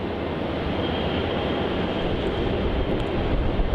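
Jetstar airliner moving at Melbourne Airport, a steady, loud, broad engine roar with no breaks or changes over a few seconds.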